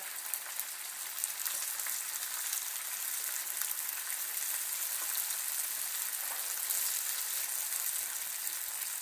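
Frozen ingredients fry for special fried rice, making a constant bright sizzle with tiny crackling spits throughout, fairly close and even in level.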